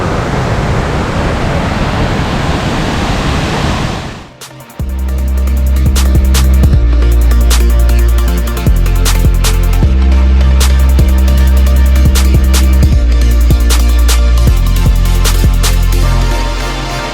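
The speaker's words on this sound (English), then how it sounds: "We are going to explore Panther Creek Falls, or maybe it's just Panther Falls." Panther Creek Falls roars as a dense, steady rush of falling water for the first few seconds, then gives way abruptly to music with a repeating bass pattern.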